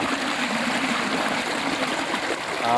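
Water gushes steadily from a pipe fed by a pump at a rice paddy being readied for planting, a continuous dense rushing splash heard close and alone without a break.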